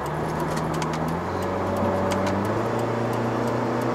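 Engine of a Subaru WRX S4 with a 2.0-litre turbo and CVT holding a steady hum as it downshifts, with the tone stepping in pitch over steady road and cabin noise, no talking.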